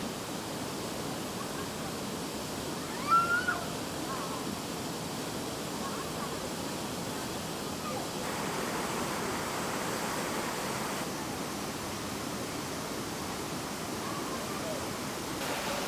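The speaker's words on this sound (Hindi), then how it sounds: "आप देख सकते हो, ये कुछ दिखा है अच्छा फॉल, पानी का फ्लो बहुत ज़्यादा है।" Kanchenjunga Falls in Sikkim pours with heavy water flow, a dense, steady roar that fills the scene without pause from start to finish.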